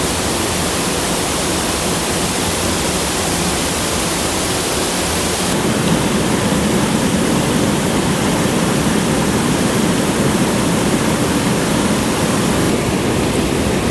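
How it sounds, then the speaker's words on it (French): Powerful waterfall at Signes roaring as a steady, dense wash of white noise, loud and close, with no break or other sound over it. "Il y a de très très belles chutes."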